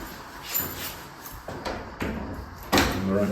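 The whole front door of an older Tuscan stone house, handled during a property viewing: a few knocks and thuds of wood and latch, with one sharper louder clunk near the end, heard close in a quiet room.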